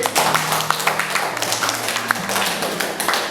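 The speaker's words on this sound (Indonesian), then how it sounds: "tepuk tangan untuk Andin" Classroom applause for a student named Andin, a brisk round of hand clapping from a small group, evenly paced and fairly close, continuing steadily throughout with no talk over it.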